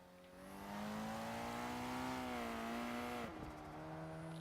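A Toyota MR2 engine in a racing video game revs loud and steady up toward the rev limiter, holding a strained, buzzing drone before briefly dipping and settling as it continues.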